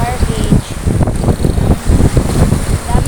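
Wind blowing at Bang Saen beach in Thailand, a steady low rumbling buffet across the microphone that rises and falls in gusts and lasts throughout.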